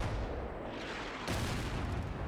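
Artillery barrage in Combat Mission: Black Sea, a dense continuous roar of distant blasts and gunfire that swells sharply halfway through, with no voices.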